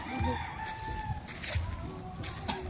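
Breeding roosters on a farm crow and cluck close by, several birds overlapping in a steady run of calls with no talking.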